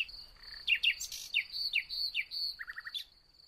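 Nightingale song, a bright run of rapid chirps, whistles and trills rising and falling, close and clear against a quiet background with no talking.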